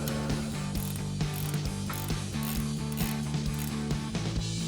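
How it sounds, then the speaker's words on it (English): An 18mm ratcheting wrench turns off a sway bar end link nut on the front suspension of a 2005-2009 Ford Mustang GT. It gives a close, continuous run of rapid metallic ratchet clicks with no talking. "with our 18mm ratcheting wrench, we'll remove this nut"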